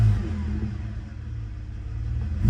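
A 1990 Mercedes 300E straight-six idles steadily at close range, a low, even rumble that holds for a couple of seconds with a slight swell at the end.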